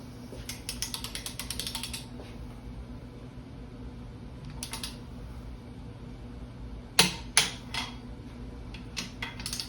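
A ratchet torque wrench tightens engine bolts to 40 foot-pounds during a Kubota V3800 engine rebuild. Quick runs of ratcheting clicks come in short bursts, followed by a few sharp, louder clacks near the end.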